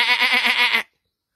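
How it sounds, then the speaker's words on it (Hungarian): A lamb bleats in a single close, clear wavering call lasting under a second, then silence follows. "Most látom, hogy van bárány is."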